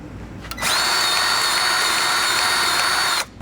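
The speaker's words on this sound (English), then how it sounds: "So we have our Milwaukee grease gun." A Milwaukee battery-powered grease gun runs in one steady, close, high-pitched whir of about two and a half seconds, starting and stopping cleanly.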